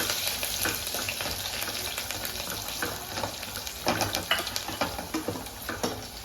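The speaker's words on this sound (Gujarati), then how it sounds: "લીલા મરચાં નાખીશું સમારેલા પછી કઢી પત્તા નાખીશું થોડું હલાવી લઈશું" Chopped green chillies and curry leaves sizzle in hot oil while being stirred, a crackling fry with scraping and clinking of a spoon against the pan, louder bursts toward the end.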